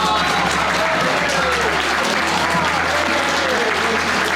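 Thunderous applause for the winning team at a university engineering competition, dense crowd clapping sustained at high level, with cheering voices mixed in under a low steady hum.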